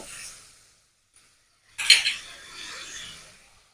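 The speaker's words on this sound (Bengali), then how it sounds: "এবার ভালো করে কষিয়ে নেব সব মশলাগুলো একসঙ্গে" Spices are stir-fried in a pan for an egg curry. A brief scrape comes first, then a pause, then a sharp clink of metal on the pan and a short burst of scraping and sizzle, close up.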